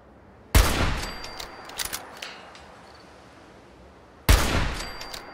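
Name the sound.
rifle gunshots in Fallout 4 video game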